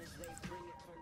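Horse in the video game ARK Ragnarok gives a short, faint whinny lasting about a second, heard quietly over low background game sound.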